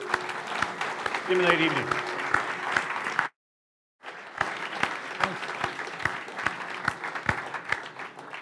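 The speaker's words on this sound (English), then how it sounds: "let's give a final, really great applause for Sunil Paul" Audience applause for Sunil Paul at the close of a talk on autonomous vehicles and the future of transportation, steady clapping in two bursts with a brief silent gap between them, and a voice speaking over the first part.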